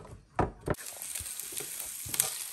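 Onion sizzles in a pan of olive oil and margarine with a soft, steady frying hiss, broken by a few sharp clacks of a utensil stirring and scraping near the start.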